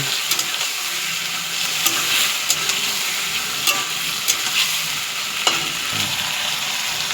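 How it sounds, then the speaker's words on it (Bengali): Marinated meat for a home Christmas Eve feast is stirred in a hot frying pan, sizzling steadily with intermittent scraping clicks of the spoon against the pan. "এবার দেখুন মাংসটাকে এবার নাড়ানো হচ্ছে।"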